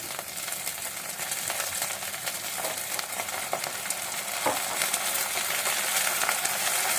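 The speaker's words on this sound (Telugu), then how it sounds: "ఇప్పుడు మనము ఈ మెంతి కూరని వేద్దాము." Fresh fenugreek leaves dropped into a sizzling tempering with curry leaves and stirred, a loud continuous frying hiss with busy scraping and crackle that grows slightly stronger toward the end.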